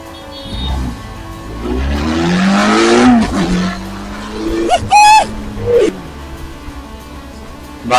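Benelli TRK 502X motorcycle engine revving on a test ride, a loud rising roar that swells and fades, then a few sharp throttle blips near the end with rushing wind.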